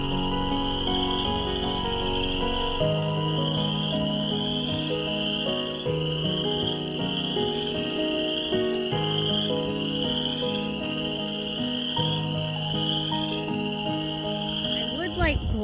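A dense nighttime chorus of chirping crickets and croaking frogs runs steadily throughout, high insect trills layered over lower rhythmic frog calls.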